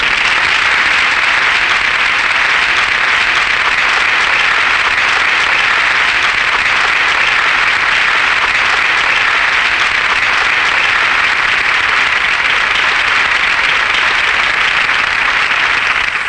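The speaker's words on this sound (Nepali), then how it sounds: "उहाँलाई हामी तालीले भव्य स्वागत गरौँ" Sustained, loud applause from an audience at a stage event in Chitwan, welcoming a Nepali singer, a dense and even clapping that lasts throughout without any voices.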